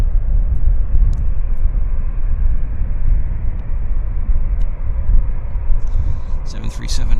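An American Airlines Boeing 737-8 jet at Vancouver International Airport produces a continuous low roar and rumble at moderate distance, with someone talking over it.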